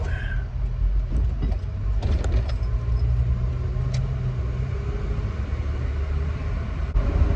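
A car fitted with a Weber 32/36 carburetor accelerates through the gears, giving a steady, close engine drone and rumble that runs continuously without any talking.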